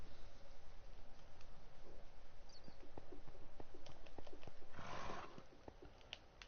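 Horse hooves in the survival builder game Red Sea Craft, a steady soft clip-clop of rhythmic footfalls under a low background hum that fade toward the end.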